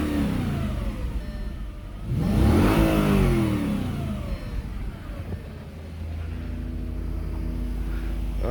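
An Audi A6 C6 with the 4.2 engine idles, then is revved hard in a short burst that rises and falls back to a steady idle, heard close up with no talking.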